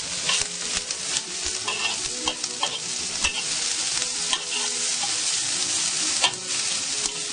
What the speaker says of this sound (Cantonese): 都係用大火咁樣再 爆香佢